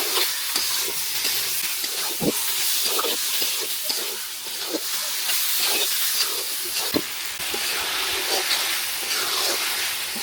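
Beef frying and sizzling in a hot pan of oily fried spice paste for a Bangladeshi beef bhuna, a constant hiss broken by scraping stirring strokes at irregular intervals, close and steady.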